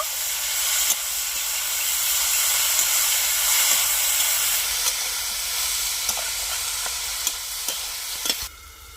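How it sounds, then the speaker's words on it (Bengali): Vegetables cooking with salt in a pan, a constant steamy hiss and sizzle with occasional sharp clicks of a spoon stirring against the vessel, close and steady, without speech. "এইভাবে নাড়তে নাড়তে সবজিগুলো আমি সেদ্ধ করে নেব"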